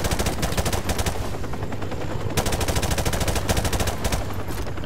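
Helicopter gunfire raining down in Modern Warfare Remastered, a loud, continuous rapid machine-gun rattle with dense repeated bursts filling the whole stretch, no talking.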